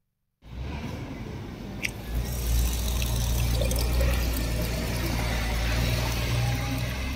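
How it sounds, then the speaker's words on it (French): Tap water pouring steadily from a drinking-water source along a hiking trail in the Chaîne des Puys, a continuous splashing flow starting abruptly and running loud and close throughout with no voices. "on a pu du coup trouver une source d'eau potable, vous le voyez au robinet, hein, pour boire."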